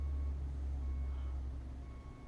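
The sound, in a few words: Tata Hyva dump truck moving at coal mine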